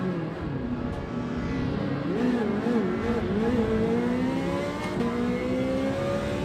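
A Ferrari race car in Gran Turismo 7 holds a steady, smooth engine tone that climbs and wavers as it revs through a corner, loud and continuous with no talk.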